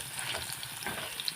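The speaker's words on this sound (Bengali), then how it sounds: "যে আলুটাকে প্রথমে ভেজে নেব একটু লাল লাল করে" Potato pieces sizzle in hot oil in a pan, browning for a quick chicken dish, a short, steady crackling fry with faint stirring close by.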